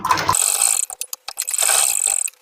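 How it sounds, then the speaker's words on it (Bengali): A sewing machine runs a seam on a kameez, with short mechanical bursts of clattering and whirring separated by brief pauses, loud and close. "আমি সেলাইটা করে দেখাচ্ছি"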